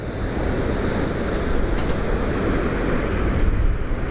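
Sea waves breaking against rocks on the Antalya coast at sunset, a loud continuous roar of surf mixed with wind buffeting the microphone, swelling slightly in the middle and near the end.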